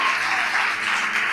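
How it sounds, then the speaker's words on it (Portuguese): A church congregation clapping for Jesus during a sermon, a brief dense wash of many hands applauding together, loud and continuous. "Dá uma salva de palmas a Jesus"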